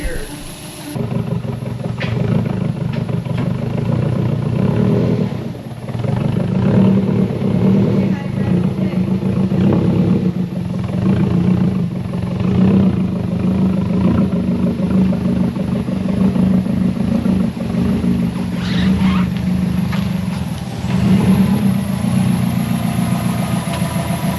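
A Subaru Legacy GT engine runs steadily throughout a test drive, a loud, continuous low hum with slight swells in revving, heard from inside the car.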